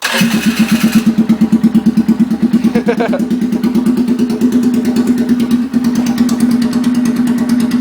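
An open-exhaust Polaris Sportsman ATV engine runs close by, a loud, steady, throbbing putter that briefly rises in pitch before evening out again.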